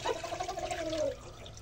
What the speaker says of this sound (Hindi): इसका जो है ऊपर वाला पानी गिरा देते हैं, वो गंदा होता है।